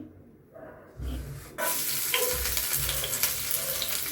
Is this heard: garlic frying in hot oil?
yes